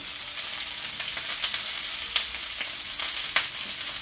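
Tekirdağ meatballs frying in hot oil give off a dense, steady sizzle with small pops and crackles, close and fairly loud, with no voices over it.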